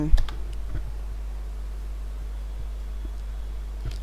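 Rapid, uneven keystrokes on a computer keyboard, typed close up in short bursts over a steady low hum, strongest at the start and end.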